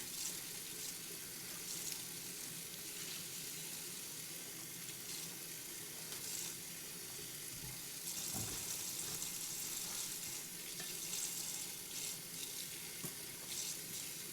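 Wild spider flower greens (phak sian) are rinsed under a running kitchen tap, a steady close rush of water with splashing and handling of the leaves throughout.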